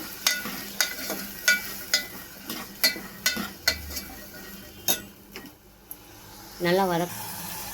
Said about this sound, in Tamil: சுண்டைக்காய் போட்டு நல்லா வதங்கணும்.